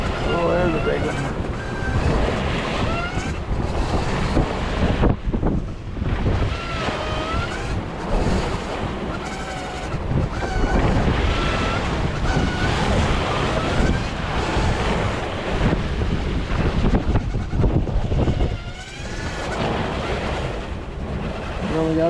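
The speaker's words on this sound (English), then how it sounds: "We only got about 19 knots of wind right now." Strong wind of about 19 knots roars across the microphone while ocean waves surge and slap around a heeling sailboat, loud and continuous with gusting swells.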